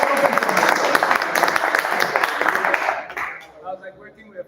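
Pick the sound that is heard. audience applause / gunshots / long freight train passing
audience applause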